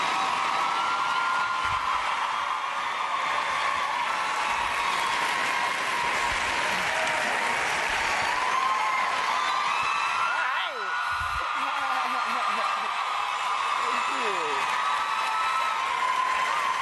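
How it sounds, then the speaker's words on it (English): Loud, sustained applause from a large audience fills the room, with scattered whoops and cheers rising over the clapping. "please join me in giving a warm round of applause for the dynamic and innovative Issa Rae"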